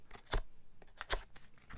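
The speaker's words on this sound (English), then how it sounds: "rather than cutting it off, you kind of tear them off like that" Fabric edges caught in slightly open scissors and torn off rather than cut, for a scorched metal prop effect; two sharp close ripping bursts with lighter crinkly rustles between them.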